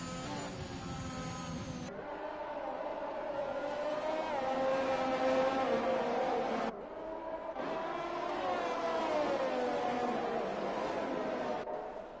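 F1 race cars in F1 2021 at a Japan race scream past in a pack, their high engine whine rising and dropping through gear changes, with abrupt cuts between loud passes.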